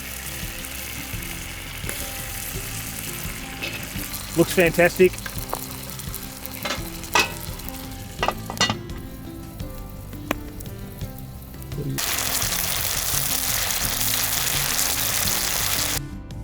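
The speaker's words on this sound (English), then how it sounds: "sizzling chicken." Chicken sizzles steadily over hot camp coals at a campsite in Howqua Valley, with a few sharp clanks of cookware, a brief spoken comment, and a louder surge of hissing near the end.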